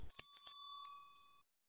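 A bright notification bell chime rings in two quick strikes, then a sustained metallic tone rings out and fades over about a second, alone and clear.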